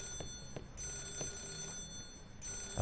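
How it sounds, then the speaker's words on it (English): In the video game Yakuza 0, a telephone bell rings in short repeated bursts, fairly quiet against a low ambient hum, with no talk. "Is that the phone?"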